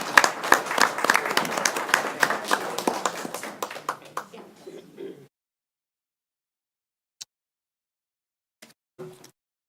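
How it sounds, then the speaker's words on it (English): Audience at a monthly board meeting giving a round of applause, a burst of dense clapping that thins out and stops after about five seconds, followed by a few faint isolated sounds. "please give her another round of applause"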